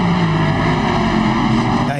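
Toyota FT-1 Vision GT Gr3 race car engine in the video game Assetto Corsa on a San Francisco street circuit, a loud, steady sustained drone with mixed low and high tones, running continuously without talk.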